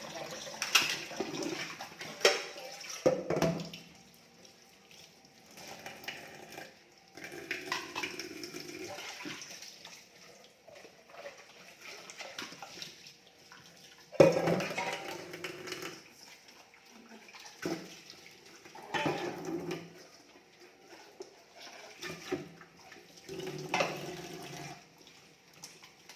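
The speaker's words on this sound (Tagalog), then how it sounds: "Hugasan ang mga ginamitan." Water runs intermittently from a tap while used cooking pots and utensils are washed, with bursts of splashing and clattering between quieter pauses, fairly close and with no talking.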